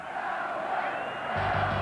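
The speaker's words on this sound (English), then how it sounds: "the crowd chanting Elway, Elway" Denver Broncos stadium crowd at a 1997 playoff game against the Jaguars, chanting for John Elway late in the game, a distant rhythmic roar that swells into loud cheering.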